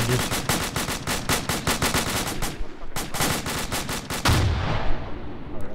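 Heavy machine gun fire in a video game, rapid loud bursts of evenly spaced shots that pause briefly and then resume, with a deep thump at the end.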